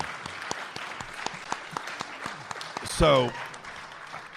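Audience at a live ufology event applauds in a moderate, fairly distant run of clapping with distinct individual claps, briefly interrupted by a short spoken word.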